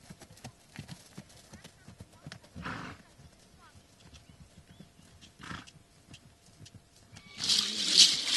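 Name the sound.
horses' hooves clip-clopping and neighing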